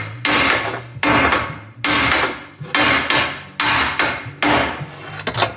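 Heavy hammer blows pound out rivets on a restoration project, six loud, evenly spaced strikes each ringing briefly before the next, with no talk.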